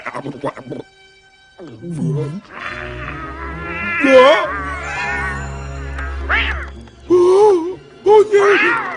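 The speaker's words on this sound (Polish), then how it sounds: "Wielgachny kotek!" A large cat meowing and wailing in several loud drawn-out cries close by, with gasps and other vocal sounds between them.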